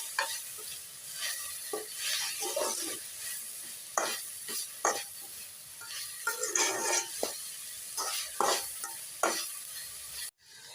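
Moringa flowers with salt stir-fried in a pan: a low steady sizzle under repeated close scraping stirs and spatula knocks, no talking.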